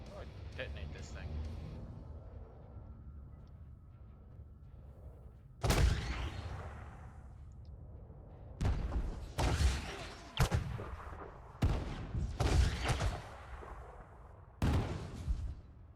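In Elite: Dangerous, a mining charge detonates with a sharp, booming blast, followed by several more heavy bursts in uneven succession, each with a rumbling tail, close and loud.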